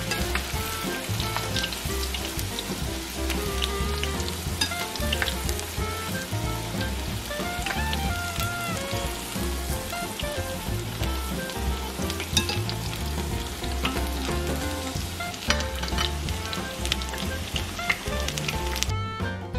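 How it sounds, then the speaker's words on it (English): Wontons deep frying in hot oil, four or five at a time, give a loud, steady, dense sizzle with crackling bubbles that runs unbroken for about twenty seconds, with no voices. "I'm just gonna place around 4 to 5 wontons. It doesn't take a long time to fry them."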